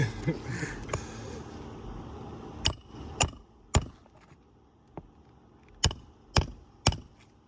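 Sharp hammer strikes ring out one at a time, several blows in uneven bursts with quiet gaps, close and loud against a still background.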